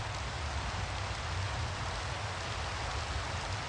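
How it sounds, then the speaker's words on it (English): Steady rain in modded Minecraft (Project Ozone Lite), a constant, even hiss of falling water with a soft low rumble that holds unbroken throughout. "we get rain again."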